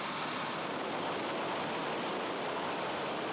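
The Kentucky River pours over its first dam at Heidelberg, a constant, loud, broadband roar of rushing water that fills the whole stretch without pause and with no voices.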